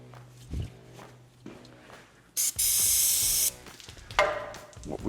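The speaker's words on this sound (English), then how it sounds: "I'm going to get some more spray in there." A loud burst of aerosol spray hisses for about a second onto a brake line fitting on a Land Rover Discovery 1, close by, amid clanks and scrapes of tools being handled.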